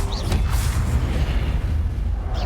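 A Confringo blasting spell explodes in Hogwarts Legacy, heard as a loud, sustained booming rumble that fills the short moment without any talk.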